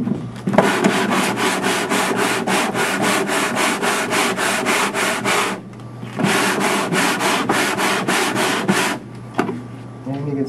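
Guitar wood is sanded by hand with 80 grit sandpaper in quick, rhythmic back-and-forth rasping strokes, close and loud, running in two long bursts separated by a short pause.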